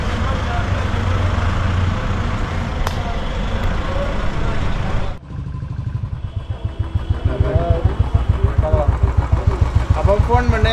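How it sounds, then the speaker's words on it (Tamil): Heavy city traffic in Srinagar, Kashmir, with motorcycle engines running and revving close by, a steady dense roar that briefly cuts out then resumes with rhythmic pulsing engine sounds. "இது பயங்கர டிராஃபிக்."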